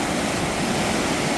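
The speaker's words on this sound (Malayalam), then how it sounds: "വെള്ളം നല്ല ശക്തിയായി ഒഴുകി വരുന്നുണ്ടല്ലേ" Water surges strongly at Balamuri waterfalls near Mysore, released from a small dam, a loud, continuous broadband roar of rushing flow heard close with no voices.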